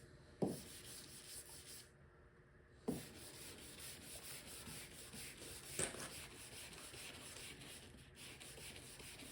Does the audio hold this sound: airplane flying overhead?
no